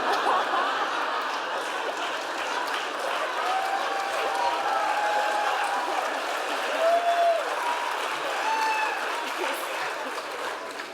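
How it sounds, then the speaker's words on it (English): A steady wash of audience applause fills an awards ceremony at the Hispanic Heritage Awards, sustained clapping from a large crowd that holds at an even level throughout, with faint cheers and voices mixed in. "this applause is for all the nannies in this country"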